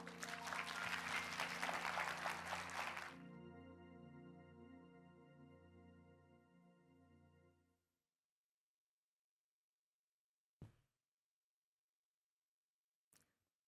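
Church audience claps to welcome a guest speaker, a burst of loud crowd applause that stops abruptly after about three seconds, leaving a fading ringing tone, then silence broken by two brief soft clicks.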